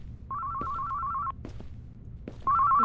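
A telephone rings with a bright electronic ringtone, two bursts of repeated trilling tones separated by a short gap with faint knocks and background hum, close and clear with no talking.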